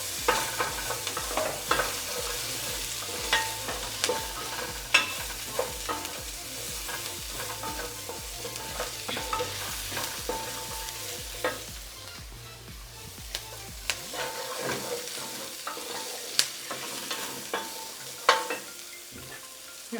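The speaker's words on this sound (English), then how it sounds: "we're going to start by cooking our mirepoix. Mirepoix is just a mixture of onions, leeks or celery, and carrots." Onions, leeks or celery, and carrots sauté in a little oil while being stirred, giving a steady sizzle with frequent clicks and scrapes of the spoon in the pan; the low frying hum drops away near the end.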